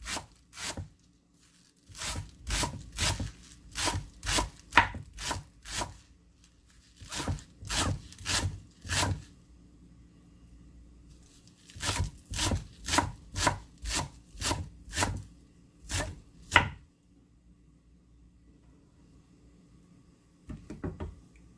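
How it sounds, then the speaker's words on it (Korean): Quick bursts of knife-on-board chopping as chives are cut finely, in rhythmic runs of even strokes separated by short pauses, close and crisp with no talking. "부추를 잘게 총총총 썰어주세요."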